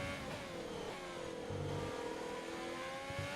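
Ferrari SF1000 Formula 1 car in a racing game on a wet Styrian/Austrian track, high-pitched engine whine climbing and dropping between shifts, steady and fairly quiet in cockpit view.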